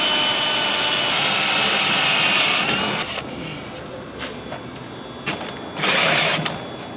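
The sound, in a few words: power drill drilling through metal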